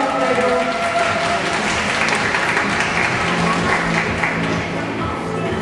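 Loud, sustained applause from an arena audience after a young gymnast's floor routine at a national championship, dense clapping holding steady throughout with crowd noise underneath.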